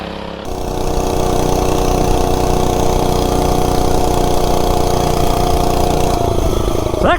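An Oryxearth 105cc minibike engine catches after a brief moment, then runs at a steady, loud buzzing idle close by and rises slightly near the end.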